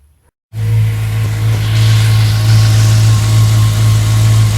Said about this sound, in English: we're gonna give it a test start to see if there are any leaks